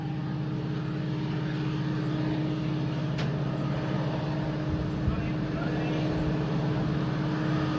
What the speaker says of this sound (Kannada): ಡೀಸೆಲ್ ಇಂಜಿನ್ ಸೌಂಡ್ ಬಿಡೋದು